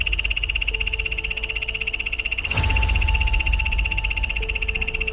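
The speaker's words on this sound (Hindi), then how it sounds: "ये एक मेंढक की आवाज थी जिसका नाम पॉइजन डार्ट फ्रॉग है" A poison dart frog calls near a jungle pond, a steady high trilling pulse repeated continuously, with a brief rustling thump partway through.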